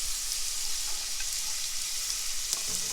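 Burger patties frying in a pan, a soft, steady sizzle and crackle throughout with a brief sharper pop near the end, no voices.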